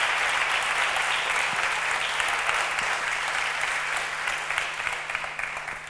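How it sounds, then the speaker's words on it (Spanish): Sustained applause from a live audience at a literature event with Antonio Muñoz Molina, dense and steady clapping that fills the room and tapers slightly toward the end, with no talking over it. "un fuerte aplauso para todos los que nos están siguiendo"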